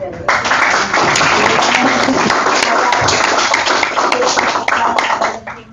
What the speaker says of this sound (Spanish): daremos un aplauso a la mesa